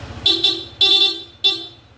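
Three short honks from an aftermarket PIAA horn on a Honda ADV 150 motorcycle, bright and close, in a quick uneven sequence over a low engine idle.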